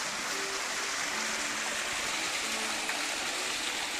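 Waterfall at Hirakud near Burla, Sambalpur, a steady broad rushing roar of falling water that holds unchanged throughout, fairly close and continuous.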